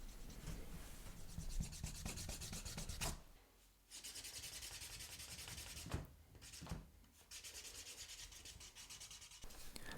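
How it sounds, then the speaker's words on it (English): Hand burnisher rubbing dampened leather edges, giving close, rhythmic friction strokes in steady back-and-forth runs, broken by short pauses between passes, fairly faint and alone. "I'm going to dampen the edges and burnish them just with a little hand burnisher"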